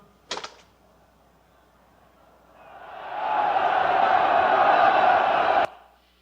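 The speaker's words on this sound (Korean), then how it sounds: "이 엄청난 환호가 느껴지십니까?" A crowd roars and cheers for Quintus Arrius at a triumphal procession in a film scene. A short sharp knock comes first, then the cheering swells into a sustained, loud roar and cuts off abruptly.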